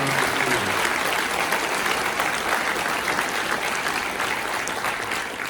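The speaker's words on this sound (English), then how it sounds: "a round of applause for them" Broad, steady applause from a seated audience at a Marine Corps Birthday Ball ceremony, a continuous wash of many hands clapping for several seconds without talk.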